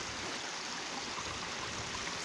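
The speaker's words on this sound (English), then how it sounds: "looks like a waterfall there" A small waterfall rushes in a steady, hissing wash of falling water, soft and continuous, with no voices.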